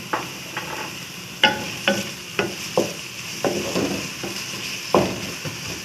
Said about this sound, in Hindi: और इसे हम फ्राई करेंगे तो इतना ही ठीक है।